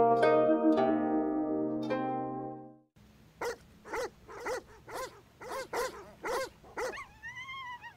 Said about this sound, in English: Was the baying getting louder?